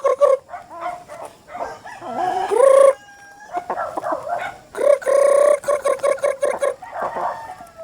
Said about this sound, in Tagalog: Mailap yung mga manok.